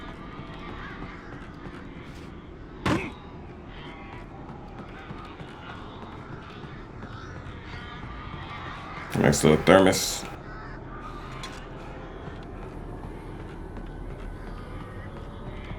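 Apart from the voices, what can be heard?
crows cawing in Alan Wake Remastered video game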